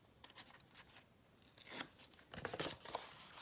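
Backing being peeled off double-sided tape on a paper pop-up card: soft, faint crackling and tearing rasps in short bursts, close and quiet, with no talk.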